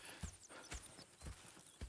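Horse hooves clip-clopping in Red Dead Redemption 2, a few distinct, quiet hoofbeats spaced irregularly near by, with faint ambient game sounds around them.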